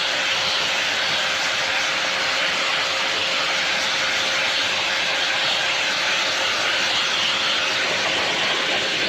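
Pecute dog grooming hair blower with hot and cold cycle modes running at maximum speed, a loud, steady high-pitched whooshing roar with a constant whine, unbroken and alone for the full stretch.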